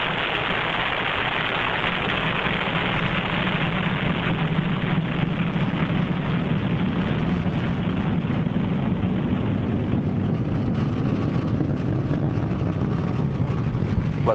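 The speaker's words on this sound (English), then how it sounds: "Liftoff of the first flight of the Delta IV Heavy Rocket" A Delta IV Heavy rocket lifts off in the Orbiter 2010 space simulator game, a steady, loud, broad engine roar that holds constant throughout with no voices.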